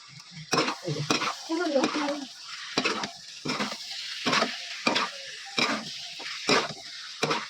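Chicken sizzling in a pan as a spoon stirs it in rhythmic scraping strokes, close and fairly loud, about once every half second.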